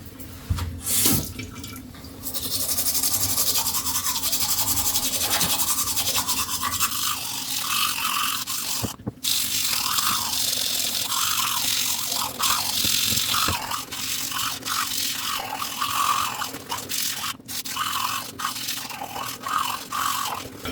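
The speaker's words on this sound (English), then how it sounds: "so let's go into brushing our teeth" Bristles scrub rapidly against teeth in a long, rhythmic brushing session near a sink, with running tap water and a few splashes and spits, close and steady with no talking.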